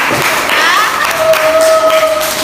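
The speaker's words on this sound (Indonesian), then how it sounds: "Tepuk tangan untuk peserta." A small group claps for participants after a group presentation at an internship practice session. The applause is close, and a whistle-like tone and scattered voices sound over it.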